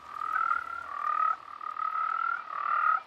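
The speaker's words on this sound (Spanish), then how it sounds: "En esos páramos húmedos hay cantidad de sapos bullangueros." Many toads call from humid Andean páramo grassland in a steady, continuous chorus of rapid trilling croaks, moderately close and with no voices.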